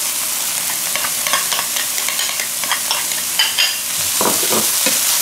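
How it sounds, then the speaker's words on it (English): Ingredients stirred around in a sizzling frying pan for stuffed chicken breast filling, with repeated close scraping and clatter of the utensil over a constant hiss, no talking. "we're going to stir these around just a little bit"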